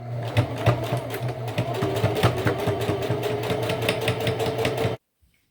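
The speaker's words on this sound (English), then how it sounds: "you'll sew it with a 1/4 inch seam allowance the whole way around" Sewing machine stitching a fabric strap for a baby tag blanket along a quarter-inch seam, a close, steady rapid chatter of needle strokes over a motor hum for about five seconds, then stopping abruptly.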